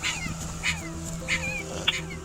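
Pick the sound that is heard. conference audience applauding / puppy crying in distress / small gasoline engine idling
puppy crying in distress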